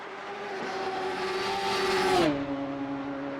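A Radical SR3 race car at Road America screams past at high revs, its engine note holding steady before dropping sharply in pitch as it goes by, loud and close with a tire squeal edge and no talk.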